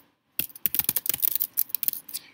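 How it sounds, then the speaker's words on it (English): Close, rapid clicking keystrokes on a computer keyboard while an email subject is typed, in a quick irregular burst after a short silence, with no talking. "Type the subject in as you normally would."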